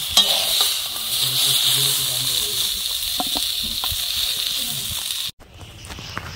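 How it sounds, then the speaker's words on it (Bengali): Flat beans sizzle and crackle in a hot pan as they are stirred, a steady close frying hiss with scraping, which cuts off abruptly near the end leaving quieter background. "সিমগুলো ভেজে তুলে নিয়েছি।"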